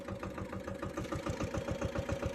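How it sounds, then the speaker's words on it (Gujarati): A tractor engine running at a steady idle, a loud, close, rhythmic chugging that continues throughout without voices. "આપણે હે ને ટ્રેક્ટર લઈને નીકળી ગયા"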